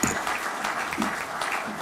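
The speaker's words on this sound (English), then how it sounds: "So give him a big round of applause." A concert audience at a Comhaltas memorial concert claps steadily for a concertina player, fairly quiet and distant, a short burst of even applause with no talk over it.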